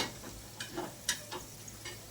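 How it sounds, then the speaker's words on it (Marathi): Food frying in oil for an Indian cauliflower curry, a faint, low sizzle with scattered light clicks and ticks, as if stirred now and then, with no voices. "तेलात फ्राय होतंय"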